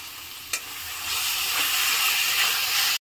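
Chopped tomatoes hitting a pan of fried onion, ginger and garlic paste, for a drumstick and potato curry, with a quick clack as they drop in and then a loud hissing sizzle that swells and holds steady.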